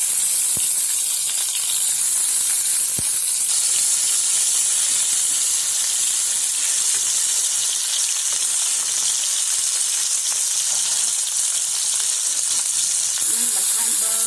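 Entrecote steak sizzling in a hot pan: a loud, steady frying hiss crackling continuously up close, with no voices over it.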